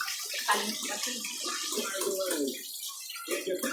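Bath water runs in the Toca Boca video game, a steady splashing gush that pauses briefly and then resumes, with a voice talking over it.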